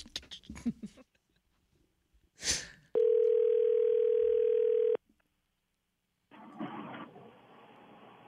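A telephone ringing tone sounds during a prank call: a steady two-second tone, a pause, then a second ring with room noise and murmured voices around it.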